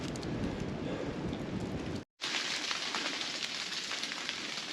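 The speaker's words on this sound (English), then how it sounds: "sounds like it's raining" Chunks of ice fall on the Appalachian Trail in a steady patter like heavy rain, dense and continuous, with a brief break midway before it resumes just as thick.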